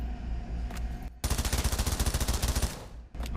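A modern weapon firing in the game Pavlov Shack, with a single shot and then a rapid automatic burst of roughly twenty evenly spaced loud shots lasting about two seconds, followed by another shot.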